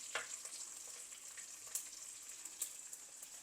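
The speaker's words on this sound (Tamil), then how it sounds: "இந்த கருவாடை கொஞ்சம் பொரிக்க விடுறது" Dried fish frying in oil in a pan, a soft steady sizzle with a few faint crackles and pops, fairly quiet and heard alone.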